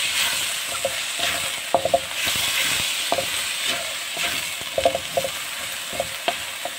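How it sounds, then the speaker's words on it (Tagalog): Swan chai vegetables and garlic sautéing in a pan, a steady sizzle with repeated scraping and clinking stirring strokes from a utensil. "ginasa ko lang yan sa bawang guys"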